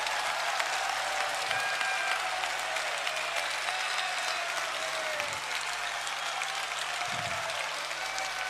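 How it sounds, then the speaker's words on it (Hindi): An audience at a religious discourse applauds steadily, a continuous, moderately distant clapping with a faint hum underneath. "यदि आप लोगों को अच्छा लग रहा है तो ताली बजाइए।"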